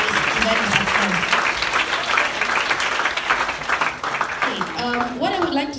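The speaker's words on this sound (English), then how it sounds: "give all of yourself a big round of applause for making this event a success" Audience applause at a school interclass debate closing ceremony, a dense sustained clapping from a crowd filling the room, with voices rising over it near the end.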